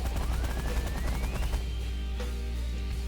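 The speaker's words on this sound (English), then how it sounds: "Energy blaster, minigun. Auto fire." Rapid automatic weapon fire from an energy blaster and minigun in The Last Federation space game, a dense continuous burst of shots with a rising whine running underneath.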